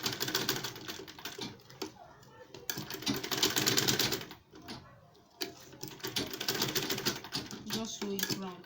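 A sewing machine stitches around a fabric double-pocket market purse in rapid whirring bursts with brief pauses between runs, with a voice talking over it.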